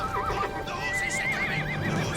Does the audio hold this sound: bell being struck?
no